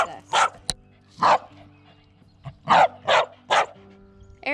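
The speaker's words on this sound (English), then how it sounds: "can you please take your dog to work with you?" A Frenchton dog barks close by in a sequence of loud, separate woofs, two early and three in quick succession later, with quiet gaps between and no talking.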